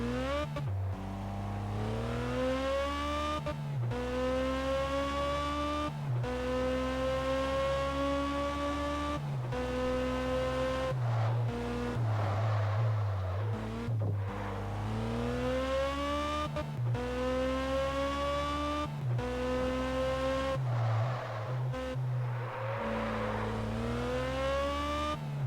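A car engine in the video game Test Drive Unlimited 2 revs up repeatedly through the gears, each climb in pitch cut by a brief shift, steady and loud like a racing car accelerating.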